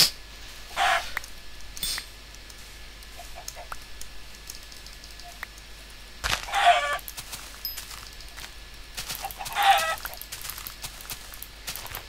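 Minecraft chickens cluck in a few short bursts spaced through the scene, fairly faint against a quiet game background, with no talk over them.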